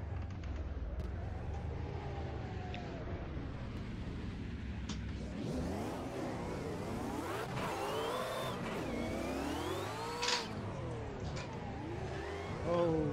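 A car engine in a racing video game, played in VR on an Oculus headset with a wheel, revs up and down repeatedly with sequential-style gear shifts, making rising whines that drop and climb again at a steady mid volume.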